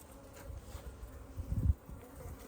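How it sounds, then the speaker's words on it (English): Honey bees buzz around an open hive during a fall inspection, a soft, continuous drone with a louder swell as bees pass close, otherwise faint and without speech. "Beautiful bees."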